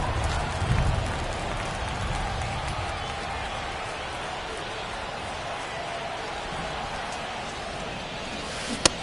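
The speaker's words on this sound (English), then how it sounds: "This rain is not letting up." Steady rain pours over a baseball stadium during a game in MLB The Show 23, a constant close hiss with a faint crowd murmur underneath and one brief sharp tick near the end.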